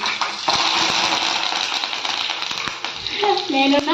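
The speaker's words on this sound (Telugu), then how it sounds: "భలే సౌండ్ ఇస్తుందండి బాగా కరివేపాకు" Curry leaves sizzling loudly in hot oil with cumin and green chillies, a dense continuous crackle close to the pan with a few sharp pops and clinks toward the end.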